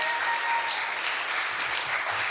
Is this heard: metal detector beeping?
no